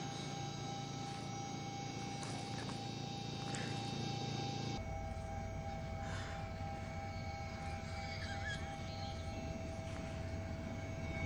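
A helicopter flying over areas hit by flash floods and landslides in Central Aceh, its engine a constant loud drone and hum that shifts in tone partway through, with no talking.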